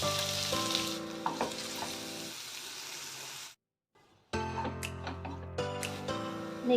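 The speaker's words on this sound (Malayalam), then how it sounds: "കുറച്ച് സ്പൈസസ് കുറച്ച് കറി ലീവ്സ് അരിഞ്ഞു വെച്ചിരിക്കുന്ന സവാള ഇതിലോട്ടേക്ക് ഇടാം" Sliced onions, whole spices and curry leaves frying in a teaspoon of ghee in a pan for egg curry: a steady close sizzle with light stirring, a brief silence midway, then the sizzle resumes with a tonal backing underneath.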